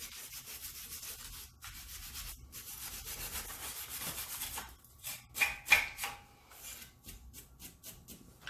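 A brush scrubs hard over a Honda Accord brake caliper being cleaned before painting, giving steady, close, gritty bristle strokes with brief pauses and a few sharper scrapes near the end.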